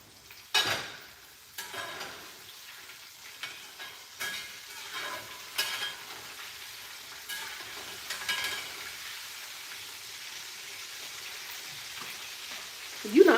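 Fish frying in a home kitchen pan make a steady, soft crackling sizzle throughout, with scattered louder pops and spits, fairly close and with no talking over it.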